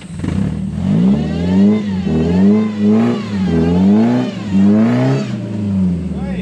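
A Toyota Hilux 4WD revs hard in a rocky canyon as its wheels spin, the engine surging and falling in three long loud pushes, close by, with voices over it.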